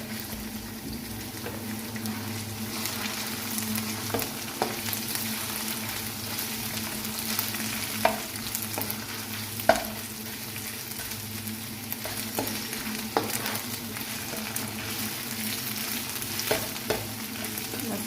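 Garlic ginger paste fries with golden onions in a pan for chana biryani, a steady close sizzle with occasional spoon scrapes and taps while stirring, no voices.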